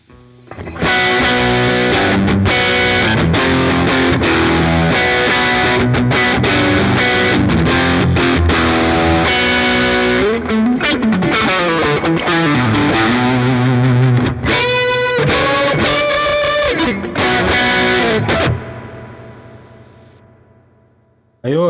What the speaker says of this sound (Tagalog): Ito kung ano man tong distortion na to.